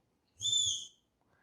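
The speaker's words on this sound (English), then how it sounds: "A warning." Warning tone from a Satellai GPS wireless dog fence collar: one clear, high electronic whistle lasting about half a second over a faint low hum, followed by quiet.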